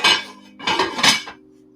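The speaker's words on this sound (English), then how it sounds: "I'm gonna put the lid on the soup as it stays warm." A metal lid set onto a soup pot of leftover gravy and wild rice: two sharp clanks with ringing, then a lighter clink and a short rattle as it settles, close and loud with a faint tone lingering.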